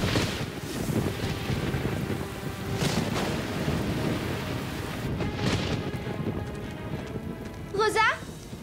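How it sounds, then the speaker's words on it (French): Heavy cartoon rain pours steadily with a low rumble of thunder throughout, swelling in bursts; voices speak over the downpour, and a brief squeaky sound rises near the end. "Mais enfin, il pleut à grosses gouttes!"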